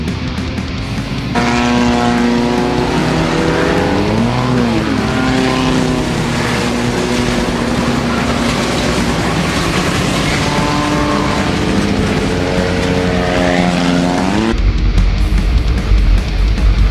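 A pack of race vehicles at full throttle in a skid plate race sends out a loud, continuous engine roar, with rising and falling pitch sweeps as machines pass close by. No one speaks.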